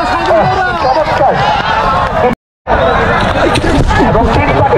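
Horses running laps in a race at a rural village market ground, their hoofbeats a loud continuous drumming under crowd babble and clapping, cut by one brief gap of silence.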